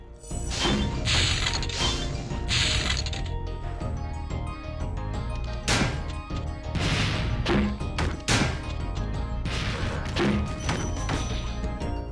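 Clanking, grinding noises of an approaching barrel mechanism in Spyro the Dragon's Gnasty's World, heavy thuds and crashes repeating over several seconds, over a continuous rumbling game soundtrack.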